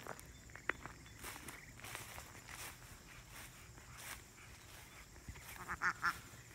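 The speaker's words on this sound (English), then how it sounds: "That's the ducklings that we left with her." Ducklings and ducks quack in a barnyard in early August, a soft scattered chatter in the background that builds to a few louder, closer quacks near the end, with faint footsteps and rustling throughout.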